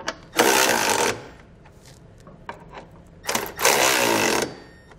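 A power tool snugs down bolts on a Curt trailer hitch receiver on a 2019 Hyundai Ioniq, two loud whirring bursts of about a second each, with small clicks and handling noises in the pause between them.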